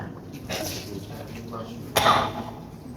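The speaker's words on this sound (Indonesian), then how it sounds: "Saya sudah 3 minggu ini batuk." A man coughs during a mosque sermon, with two separate bursts: a softer one early and a sharper, louder cough near the middle, set against a quiet room.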